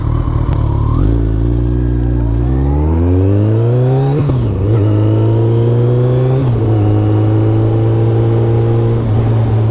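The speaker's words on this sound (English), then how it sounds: "Now look, I'm riding this bike" A used motorcycle being ridden, its engine loud and close as it revs up through rising pitch, drops back briefly, then climbs again with a steady throaty drone and no talking.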